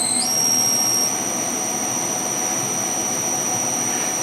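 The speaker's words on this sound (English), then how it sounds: "And let's spin the spindle." A milling machine spindle spins during calibration of a Haimer 3D Taster, giving a steady high-pitched whine that rises sharply at the start and then holds level and loud.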